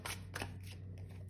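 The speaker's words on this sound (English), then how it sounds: "I just want to give it a shuffle." A deck of tarot cards being shuffled by hand, a few quick papery snaps and riffles close by against a quiet room, with no talking.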